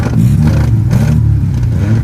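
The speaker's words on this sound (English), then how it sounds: "You doing a burnout over there?" Close, loud engine revving hard during a car burnout, a dense low roar with wavering pitch and tire scrub, steady throughout without speech.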